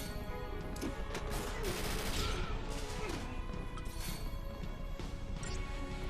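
Loud, dense video game combat with a grenade blast and rapid gunfire crackling together in a continuous barrage, sharp bursts layered over a sustained roar, with no talk over it.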